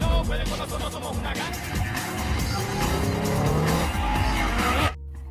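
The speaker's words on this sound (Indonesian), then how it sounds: "puluhan mobil muncul yang dikendarai para pembalap untuk mengalihkan para polisi" Dozens of race cars skid during a street chase scene in Fast and Furious 2, with roaring engines and squealing tires filling the scene loudly and continuously before cutting off abruptly near the end.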